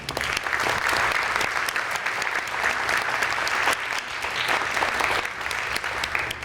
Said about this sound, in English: let's give a round of applause and thank our law enforcement